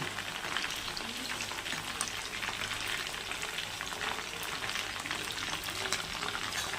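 Chicken pieces deep fry in hot oil, filling the space with a dense, even crackle and bubbling sizzle that stays steady and close from start to finish.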